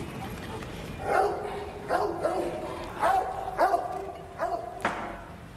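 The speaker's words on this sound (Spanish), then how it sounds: "vemos a este nene que escucha a ese perrito o perrotote ladrar" A dog barks repeatedly at a steady pace, about six barks, moderately distant over a low background hum.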